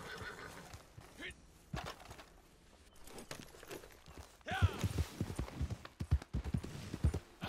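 A horse in the Red Dead Redemption 2 game world whinnies and its hooves clop irregularly nearby, the steps growing louder toward the end, with faint ambient sounds.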